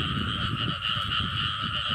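Frogs croak in a steady, rapid pulsing chorus close by, continuous and fairly loud for the whole stretch.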